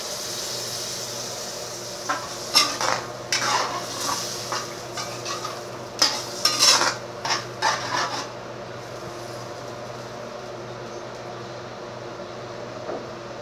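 Pork laing cooking in coconut milk is stirred in a pot, giving scraping and soft bubbling clatter for several seconds over a low steady hum, then settling into a quiet simmer.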